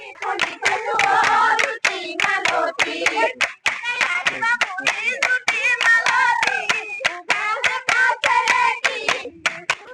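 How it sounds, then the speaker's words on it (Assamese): Women practising Jeng Bihu clap their hands and strike the toka, a bamboo clapper, in a brisk steady rhythm. The sharp, close claps run throughout, over loud group singing. "টকা হাত চাপৰি বজাই এতিয়া পৌৰাণিক বিহু নাম গাই জেং বিহুৰ আকৰ্ষণীয় আখৰাত ব্যস্ত এইসকল মহিলা"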